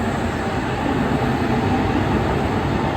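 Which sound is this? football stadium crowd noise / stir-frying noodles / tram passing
tram passing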